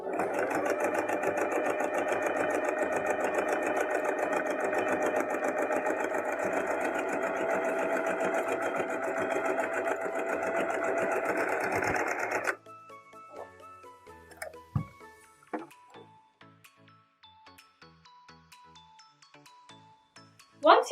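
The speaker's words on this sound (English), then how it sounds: "Then stitch the two pieces together, leaving 5/8 of an inch of seam allowance." A sewing machine stitches two dress pieces together in a loud, steady, rapid whirr for about twelve seconds, then stops, followed by scattered light clicks and handling sounds of fabric and the machine.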